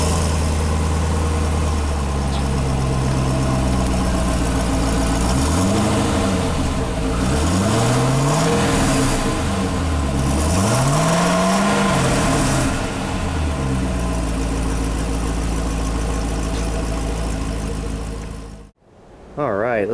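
A 2006 Chevrolet Corvette convertible with a 400 HP LS2 V8 and Z51 performance package idles with a deep, loud rumble, then revs up and down in three rising and falling sweeps before settling and shutting off near the end.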